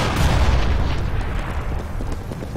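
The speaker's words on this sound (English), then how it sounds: "I'm throwing a grenade." A grenade blows up in CS:GO, a heavy boom with a low rumble that fades slowly over a few seconds, with no talk.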